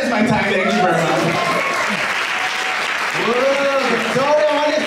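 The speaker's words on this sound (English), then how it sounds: "please give it a round of applause for her" An audience claps steadily through the whole stretch while a voice talks loudly over it.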